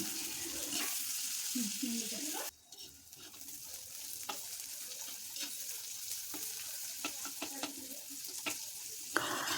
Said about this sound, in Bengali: এখন দিয়ে দিচ্ছি পেঁয়াজ কুচি। পেঁয়াজটা একটু লাল লাল করে ভেজে নিতে হবে